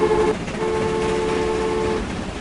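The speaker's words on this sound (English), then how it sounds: "So we've now got 3 trains running on here." Trains running in the Transport Fever game, a steady rumbling rail hum with tonal horn-like notes that sound briefly, pause, then hold for a longer stretch before fading, with no voices.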